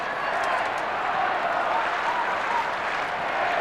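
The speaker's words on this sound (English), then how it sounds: "The crowd in festive mood now." A large football crowd at an Adelaide Crows versus Collingwood match in 1993 applauds and cheers in a continuous, distant roar of clapping that holds steady throughout.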